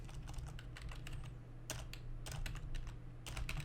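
Keys clatter on a computer keyboard as a command is typed into a command prompt, bursts of quick close taps broken by short pauses over a steady low hum, with no talking.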